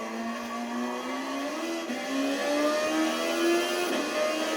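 A race car in Gran Turismo Sport accelerates out of a corner, its engine note climbing steadily with quick upshifts, loud and continuous without talk.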